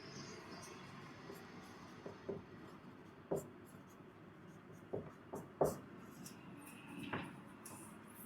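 During a class 10 chemistry lesson, chalk scratches and taps on a board in short, irregular strokes, faint against a quiet room.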